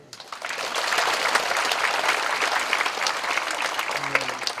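A church congregation applauds newly ordained officers at an ordination thanksgiving service, with sustained, dense clapping filling the hall and a brief low tone entering near the end.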